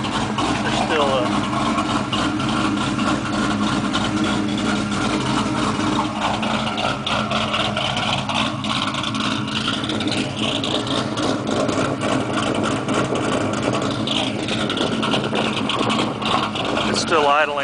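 Just after a cold start, a car engine idles fast near 1,000 RPM with a steady, even hum, while someone talks over it.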